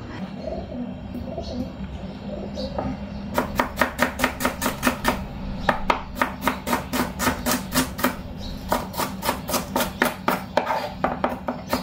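A knife chops onion and tomato on a board in a steady run of sharp, evenly spaced strokes, with faint birdsong in the background.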